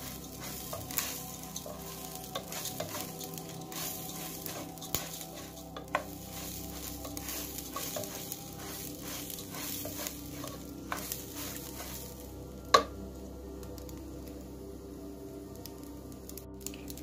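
Raw rice toasts in ghee in a pan for Kerala-style prawn biryani, a soft, quiet sizzle with irregular stirring scrapes and taps, plus one sharp clack near the end.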